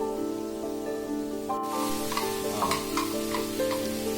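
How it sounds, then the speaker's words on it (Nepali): Spiced buffalo meat fries in a pan for a Nepali-style spicy gravy, a steady close sizzle with stirring scrapes and a sharper hiss surging midway. "यसले चाहिँ मसला राम्रोसँग पाक्छ र फ्राई भएको बफ भित्रसम्म पनि मरमसलाहरू जान्छ"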